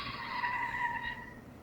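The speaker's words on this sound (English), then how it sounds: "car skid" Car skid sound effect from a stop motion app: one tire squeal with a tonal screech lasting about a second and a quarter, then fading out.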